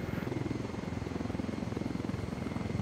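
Helicopter in Ghost Recon Wildlands flying low over water, a steady close rotor thump with rapid regular pulsing and engine whine, no voices.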